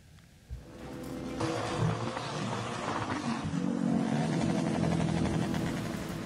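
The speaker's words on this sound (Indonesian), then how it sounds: "Ratusan anggota perguruan silat berkendara dengan knalpot brong dan ugal-ugalan di Tuban, Jawa Timur" A convoy of hundreds of martial arts group members rides motorcycles fitted with loud modified exhausts in Tuban, East Java, the engines building into a dense, continuous, revving roar that swells and holds.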